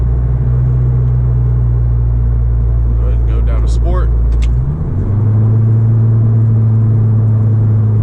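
Loud cabin drone from a turbocharged Honda Civic with a 3-inch straight pipe, a steady low rumble that dips and then settles into a new tone as it speeds up, with the driver talking over it.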